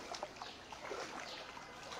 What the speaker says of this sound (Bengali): এই দেখুন পানি প্রবেশ করছে কিভাবে।